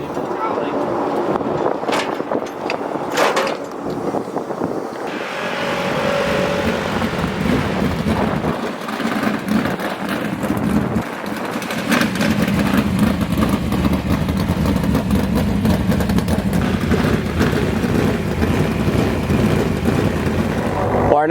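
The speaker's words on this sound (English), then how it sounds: "We just got the 21 Tarlton Motorsports car all fired up for some engine heat" The 21 Tarlton Motorsports 410 sprint car engine is fired up to build heat before a High Limit dirt race in Vegas, a loud, continuous rumbling idle that grows fuller and steadier after the first few seconds.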